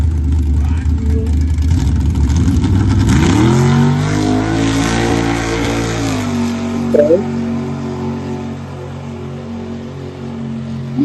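A truck with big tires accelerates hard down the street at a racing event, a loud close engine roar climbing in pitch, easing off, then settling into a steadier drone with people talking over it.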